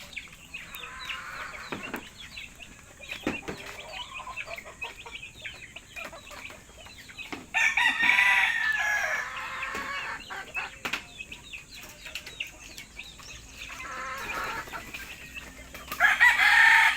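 Backyard chickens cluck and mutter close by while a rooster crows loudly twice, once midway and again near the end, over faint background noise.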